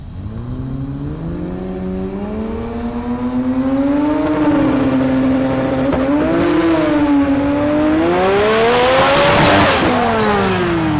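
Drag race cars launch side by side down the strip at Heartland Park in Topeka, a 13-second car beside a 7-second car, engines roaring loud and close with rising, revving pitch sweeps and tire squeal, steady and continuous without talk.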